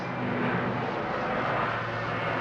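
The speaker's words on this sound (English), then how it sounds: "low flying aircraft. We're under attack." A low-flying aircraft passing overhead, a loud steady broadband roar that stays constant throughout with no voices.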